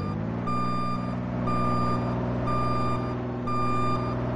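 A truck in a Roblox game backs up, its reversing alarm beeping in four steady, evenly spaced tones over a low engine rumble.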